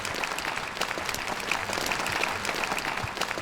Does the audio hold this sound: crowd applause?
yes